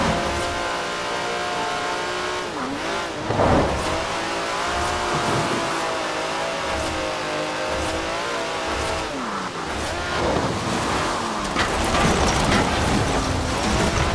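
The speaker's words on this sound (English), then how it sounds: "That's a 90-year-old racing car. It's gonna take some handling." A 90-year-old racing car in the video game Forza Horizon 4 revs and accelerates along a coast road, its engine rising and falling through repeated gear changes, loud and close and alone.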